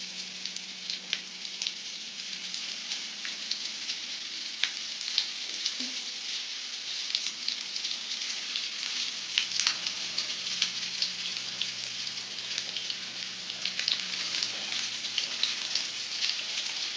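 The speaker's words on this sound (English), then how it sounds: "now let's go ahead and add our lamb chops to our pan now that it's nice and hot" Lamb chops frying in a hot pan give a soft, steady crackle and sizzle with scattered pops, continuous and fairly quiet throughout, no voices over it.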